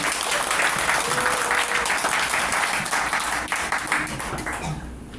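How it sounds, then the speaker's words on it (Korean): A lecture hall audience at a Korean history talk gives loud, sustained applause, many hands clapping together in a dense roar that gradually thins out toward the end. "다시 한번 손뼉을 부탁드리겠습니다"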